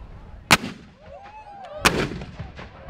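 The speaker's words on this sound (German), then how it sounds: "Sieben Kanonenschüsse für engagierte Bürger." Two sharp ceremonial cannon shots boom out about a second and a half apart at a village anniversary celebration, each with a brief rolling echo, and faint crowd ambience fills the gap between them.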